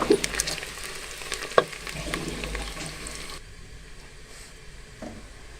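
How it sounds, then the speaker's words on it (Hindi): Oil sizzling and spattering in a pan as onions fry for Kashmiri dal chawal, with a few sharp clicks of stirring; the sizzle drops to a quieter hiss partway through. "इसको हम हल्का सा फ्राई करेंगे।"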